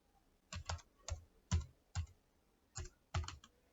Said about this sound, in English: So if I type in right now,